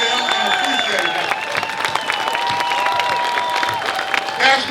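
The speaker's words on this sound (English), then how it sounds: "give my brother John Feal a round of applause" Crowd at a September 14 remembrance gathering for responders at Responders Remembered Park applauds John Feal, a steady wash of clapping with a few whistles and cheers.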